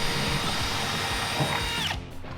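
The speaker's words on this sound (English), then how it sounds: "Now I'm just drilling the hole." A power drill bores a hole during a workshop build, running as a loud, steady whine with a continuous grinding hum for about two seconds before cutting off abruptly.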